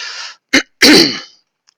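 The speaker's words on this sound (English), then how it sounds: "continuing to clear my throat into the microphone" A person clears their throat up close, a few short harsh bursts with brief pauses, ending in a longer raspy rumble.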